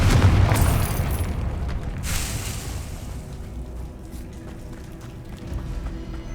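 Heavy booming blast from the Confringo fire spell in the Hogwarts Legacy video game, a loud explosion at the start that rumbles and decays over several seconds with scattered crackling debris.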